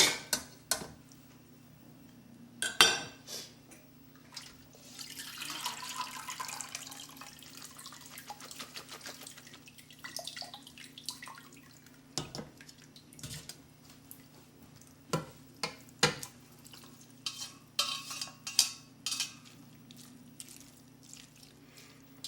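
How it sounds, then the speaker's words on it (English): Cooked pasta and a ladleful of pasta water go into a gorgonzola sauce and get stirred, faint wet sloshing and scraping with a few sharp clinks of utensil against pan, quiet and intermittent. "I'm going to add the pasta to the sauce and about a ladleful of the pasta water"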